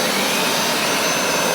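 A Hoover SmartWash carpet cleaner running on carpet produces a loud, steady motor roar with a broad whooshing suction hiss and a faint high whine, constant throughout a brief stretch with no talk.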